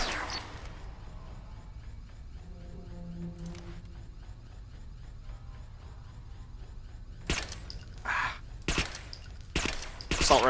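Assault rifle fire in the sci-fi shooter game Interstellar Marines, with a quiet stretch giving way to several sharp, loud bursts of shots clustered near the end.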